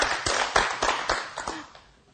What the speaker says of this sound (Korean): 큰 박수로 감사 표현을 할까요?